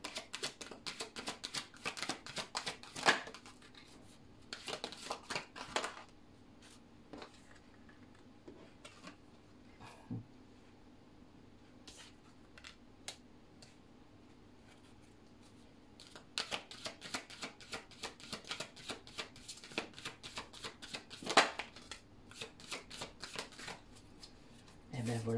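Tarot cards are shuffled for a reading in close, crisp riffling bursts that come in a few clusters with quiet gaps between them, while a voice speaks softly at times.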